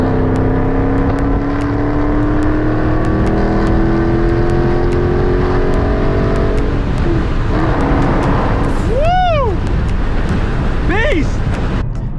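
A rebuilt 2013 Dodge Charger SRT8 engine revs hard on a test drive, rising and falling whines sweeping up and down in loud, continuous surges with the road noise of the moving car.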